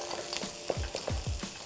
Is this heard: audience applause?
no